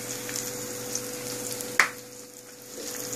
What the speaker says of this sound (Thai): เดี๋ยวรอเจียวไปสักครู่นะคะ